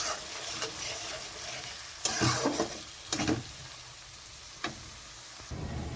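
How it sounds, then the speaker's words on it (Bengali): Ground mustard paste sizzles steadily in a pan for a mustard-greens dish, broken by a few scraping stirs of a spatula that rise briefly above the frying. "এখানে দিয়ে দিচ্ছি সর্ষে বাটা।"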